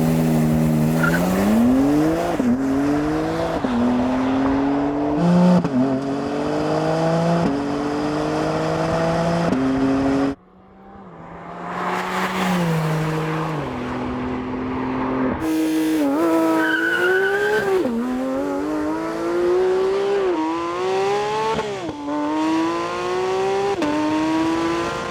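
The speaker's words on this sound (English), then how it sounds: "Now let's hear them when they're driving." Porsche GT3 sports cars driving, engines revving in repeated rising sweeps with sharp gear-change drops, a brief lull in the middle before the engine climbs again, loud and close throughout.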